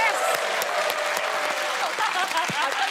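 A television panel-show studio audience bursts into loud, sustained clapping that stays dense and even throughout, with a voice faintly audible beneath it.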